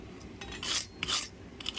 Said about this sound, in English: Brush the scale off.